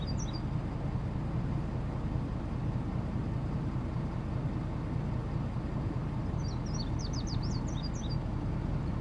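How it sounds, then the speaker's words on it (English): Birds chirp outdoors in Davenport, Iowa as a storm rolls in, a short call at the start and then a quick burst of high tweets near the end, faint over a steady low rumble of wind and traffic. "you can hear the birds chirping right now"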